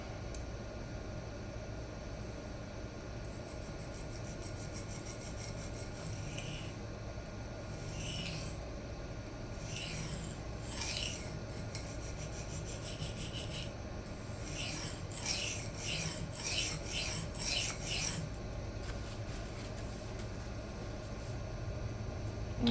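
Kizer Baby knife with a Crucible 154CM blade drawn across an Atoma 140 diamond plate, a faint, steady scratchy rubbing under room hum, with a handful of brief sharper strokes clustered mid-way and near the end.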